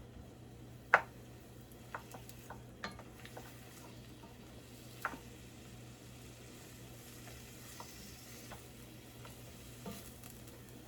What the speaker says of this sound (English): I can hear them sizzling